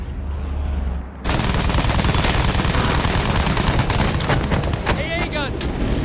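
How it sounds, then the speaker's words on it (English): Anti-aircraft gun fire erupts in a Battlefield 1 cutscene, a dense, continuous barrage of loud rapid shots following a brief quieter opening, with excited voices shouting over the din. "AA gun!"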